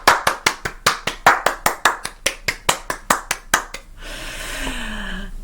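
A woman claps her hands in a steady rhythm, about fifteen sharp, close claps, then stops, leaving a short stretch of quieter room noise.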